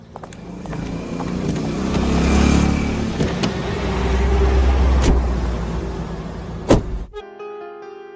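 A road vehicle's engine runs and swells in volume as it pulls away, with a sharp knock near the end before it cuts to a quiet tone.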